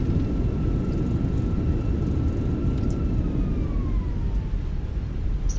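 Loud, steady engine roar from a British Airways A320 as reverse thrust spools up during a landing rollout in a flight simulator, with a thin whining tone gliding slowly downward over the continuous rumble.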